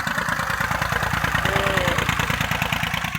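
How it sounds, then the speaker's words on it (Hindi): A tractor engine runs steadily and loud, drawing dam and stream water through an 8-inch pipe onto open farmland, with a constant throbbing idle that does not change. "डैम नाले का पानी ले रहा है ये ट्रैक्टर"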